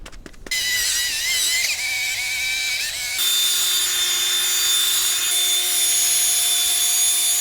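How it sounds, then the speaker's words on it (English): Sanding a plastic headlight lens with 800 grit sandpaper gives a steady, close, high-pitched whirring with a constant tone that shifts pitch partway through and then holds evenly to the end. "I can still see some scratches from the 800 grit sandpaper in some spots, so I'm gonna go over it again"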